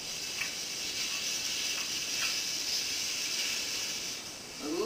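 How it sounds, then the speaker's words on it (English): Bacon sizzles in a hot pan with a steady, fairly close hiss and scattered faint pops and crackles, with no one talking. "put some bacon in a hot pan so that it renders"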